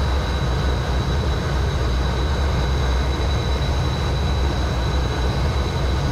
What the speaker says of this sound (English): we can hit full throttle, and here we go